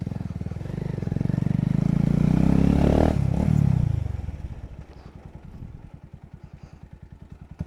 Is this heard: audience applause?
no